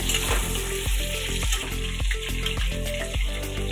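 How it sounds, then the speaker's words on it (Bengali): Potatoes fry in hot oil with a loud, continuous close-up sizzle and faint low thuds under it. No voices are heard. "এদিকে আলু ভাজা হচ্ছে"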